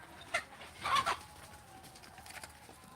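Native desi hens on a small poultry farm give a few short clucks, one near burst followed by a louder cluster of calls, then quiet farmyard background.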